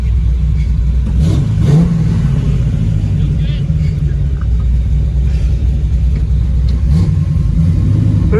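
A 1968 Camaro SS engine revs and pulls away with a loud, steady low rumble that swells as it accelerates, with people talking over it throughout.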